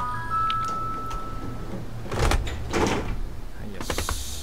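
Tram doors on a Nagasaki Electric Tramway line 3 car in a train driving game slide shut with a couple of thumps and a closing chime, set against a low steady motor hum.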